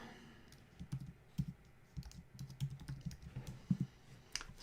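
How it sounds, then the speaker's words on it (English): Keys on a computer keyboard clatter in quick irregular bursts, fairly close and moderately quiet, with brief pauses between runs of typing and no talking. "Can't type today either."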